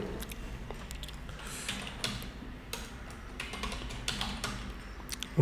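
Keys clattering on a computer keyboard while code is typed, quick irregular bursts of close, quiet clicks with short pauses, and no speech.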